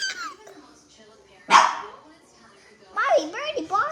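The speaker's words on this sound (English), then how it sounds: "He barking because you're making that noise." Dogs barking, a sharp single bark followed by a quick series of yips and whining barks, close by, with a voice talking around them.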